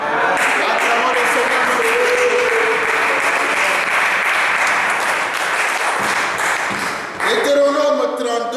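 A church congregation at a seminar in Germany breaks into sustained loud applause, steady and dense throughout with a preacher's voice briefly heard near the end.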